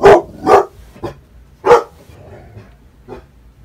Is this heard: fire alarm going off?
no